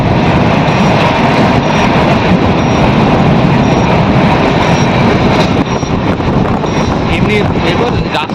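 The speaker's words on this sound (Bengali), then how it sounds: "এই দুরন্ত এক্সপ্রেস ট্রেনটি পার ঘন্টায় কত কি স্পিডে চলছে সেটা তোমাদেরকে এক ঝলক দেখিয়ে নিই।" The New Delhi Duronto Express (12273, Howrah to Haridwar) runs at speed. It gives a loud, continuous rumble of wheels on rails with clattering, wind buffeting and faint squeals throughout.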